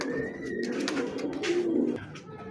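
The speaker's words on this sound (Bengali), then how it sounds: "এটা হলো দ্বিতীয় নম্বর কবুতর ভাই" Pigeon cooing indoors, low soft coos repeating across the stretch with a louder swell near the end, close and moderately quiet, with a fan hum underneath.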